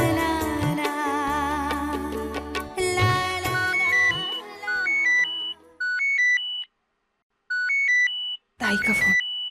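A phone rings loudly with a bright electronic melodic ringtone, repeating in short bursts with brief gaps, after a stretch of background music in a Hindi TV drama.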